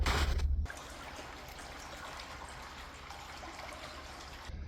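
Water trickles and drains steadily from a flooded site with ice and snow around, a continuous close wash of running water after a brief louder burst at the start.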